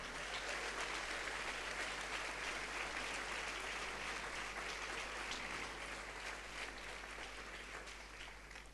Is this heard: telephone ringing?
no